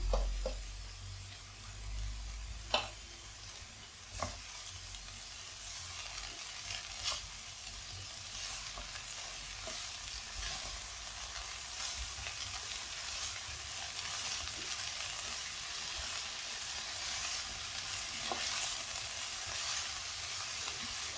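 Spinach wilting as it fries in a pan, a soft continuous sizzle with occasional light taps and stirring scrapes, close and fairly quiet, no voices.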